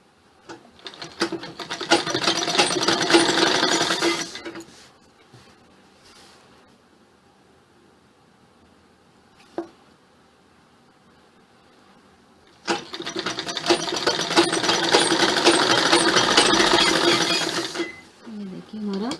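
Sewing machine stitching fabric pieces of an umbrella-style suit, with two long, steady whirring runs of rapid stitching separated by a quiet pause with a single click.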